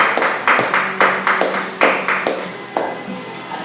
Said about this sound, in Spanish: Si usted puede dar un aplauso